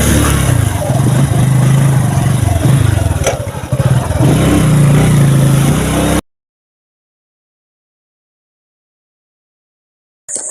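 A motorcycle engine labours and revs loudly on a rough, steep road beside a drop, rumbling and clattering for about six seconds before a long silence and a brief burst of sound at the end.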